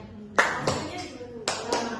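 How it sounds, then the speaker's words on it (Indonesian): People clap their hands in turn while posing, giving two pairs of sharp, close claps separated by a short pause, with light voices in the background. "Kita berpose tapi sambil tepuk tangan, bergantian."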